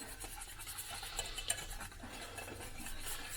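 Root beer is mixed into a marshmallow mixture with a utensil, a soft, continuous scraping and clinking against the bowl, quiet and close with no talk.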